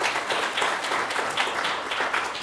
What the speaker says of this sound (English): Can we get a round of applause for everyone who spoke this morning?